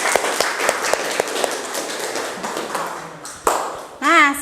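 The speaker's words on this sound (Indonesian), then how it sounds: "berikan tepuk tangan" Students applaud in a classroom during a teaching practice lesson, with sharp, regular claps rising over a steady roar of clapping for about four seconds before a voice cuts in at the end.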